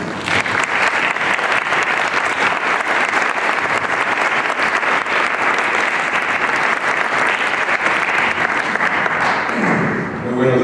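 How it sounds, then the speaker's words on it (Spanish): Sustained audience applause for a lecturer at a science talk, loud and steady for about ten seconds before easing off at the end. "pido que recibamos un aplauso al doctor Martín Aluja."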